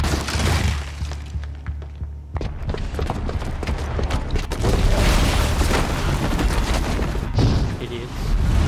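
A booby-trapped bomb goes off in Horizon Zero Dawn, with heavy booms, crashing debris and rumbling blasts building and rolling on in a loud, chaotic stretch while voices talk over it.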